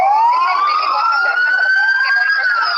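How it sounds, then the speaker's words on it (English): Loud, continuous wailing emergency siren sweeping up and down, heard close by on a roped-off downtown Houston street near a burning building, with no talk over it. "There's like ambulances everywhere."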